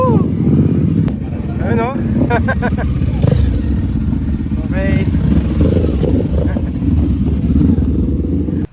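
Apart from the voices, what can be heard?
motorcycles and maxi scooters riding into parking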